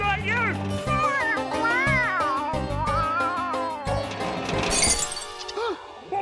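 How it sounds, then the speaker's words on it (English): Glass art shattering in a children's cartoon, a bright crash of breaking glass near the end, following meow-like vocalizing and music, with voices around it. "Must have rolled over some of Mr. Reeky's glass art"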